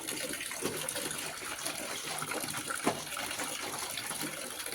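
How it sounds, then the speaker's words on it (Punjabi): Clothes washed by hand with soap and water, a steady close wash of splashing and gushing water with small sloshing surges, continuous throughout and without talk. "ਚਲੋ ਕੱਪੜੇ ਧੋ ਲਈਏ"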